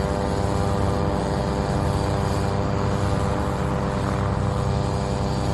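Airplane flying in an educational children's game, a continuous, loud droning engine hum that holds steady without pause, no voices.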